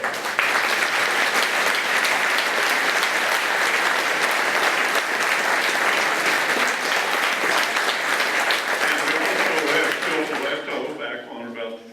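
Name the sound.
audience applause for World War II veteran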